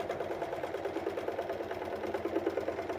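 A sewing machine stitching a quarter-inch quilting seam in a hoop frame, running as a steady, continuous mechanical whir close by with no voices.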